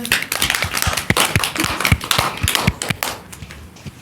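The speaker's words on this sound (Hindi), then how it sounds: "ताली बजाओ इसके लिए" Hands clap in a quick, uneven burst during an Islamic lesson on the sunnah acts of wudu, sharp close claps repeating for several seconds before thinning out toward the end.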